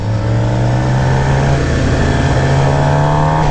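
Close, loud engine of a 2018 Suzuki GSX-R750 sport motorcycle during a ride, its mid-range pitch climbing steadily as it revs, continuous with no pauses.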